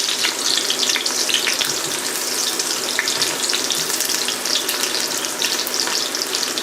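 Onions sizzle loudly in hot vegetable oil in an 8-quart stock pot, a dense, continuous frying hiss with faint crackles and stirring that stays steady throughout.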